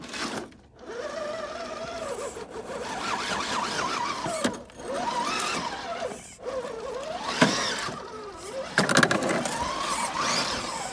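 A Redcat Gen8 RC crawler with a Surpass Hobby 10t 550 motor driving over a slide with pine straw caught in it, whining electric motor rising and falling in pitch with throttle bursts.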